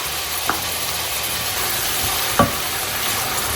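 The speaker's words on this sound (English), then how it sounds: "with the butter and garlic, you want to add your shrimp and cook it until it's translucent." Shrimp cooking in butter and garlic in a pan, a soft continuous sizzle with two brief utensil knocks, close and alone without talk.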